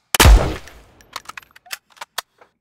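A punchy bullet gunshot sound effect opens with a loud close blast, then trails into scattered crisp ticks and patters of dirt impact debris that fade over the following two seconds, with no talking.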